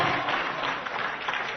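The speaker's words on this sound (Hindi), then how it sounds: "तालियां निरंतर बजती रहनी चाहिए साथियों" An audience at a political event in Rajasthan applauds steadily, a dense, even wash of clapping from many hands, fairly loud and with no talking over it.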